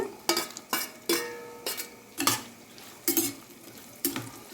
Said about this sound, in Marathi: मी एक सिमला मिर्च कट केलेली आहे ही पण याच्यामध्ये टाकून घेते